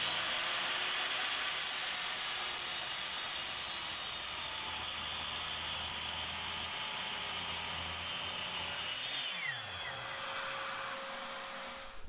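A steady, loud power-saw whine cutting through a hydrofoil fuselage tube for several seconds, then slowing and winding down near the end as the cut finishes.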